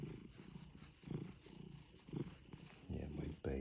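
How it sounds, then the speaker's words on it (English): A pet cat's low purr comes in soft, uneven bursts close to the ear, with quiet noise between them. "Purr in here."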